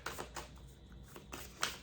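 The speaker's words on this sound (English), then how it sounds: "For masculines, it was kind of a lot, so I'm gonna shuffle a bit more." Tarot cards are shuffled softly by hand in a few quick, faint riffling bursts with small pauses between them, close and quiet.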